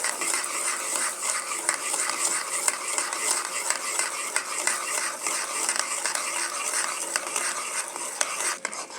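Sugar stirred and cooked in a pan on the stove, a steady dense sizzle with continuous scraping of the stirring utensil, fairly close and uninterrupted, with no talking.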